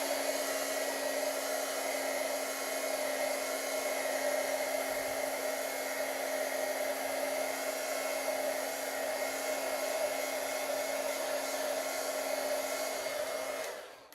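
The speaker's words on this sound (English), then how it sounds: "this tool is just called a heat tool" A heat tool drying watercolor paint gives a steady, loud blowing whir that runs continuously for several seconds with no pauses, then cuts off abruptly at the end.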